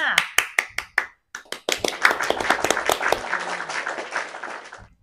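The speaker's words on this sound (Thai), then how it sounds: "เสียงปรบมือดังลั่นไปทั่วห้อง" Several sharp claps ring out first, then a burst of applause fills the room, fading out near the end.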